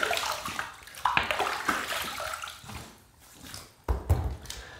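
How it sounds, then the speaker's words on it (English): Water poured from a container into a sink during a wet shave with Stirling Barbershop soap, splashing and trickling in uneven bursts for several seconds, close and moderately loud, with a final gush near the end. "I'm going to take this water that's up there on top of there and pour it in like that into the sink"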